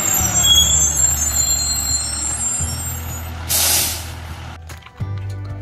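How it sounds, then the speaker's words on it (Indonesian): A green, white and orange garbage truck idles with a low engine drone and steady high reversing beeps, then lets out a loud burst of air-brake hiss before the engine rumble resumes. "ada mobil truk sampah."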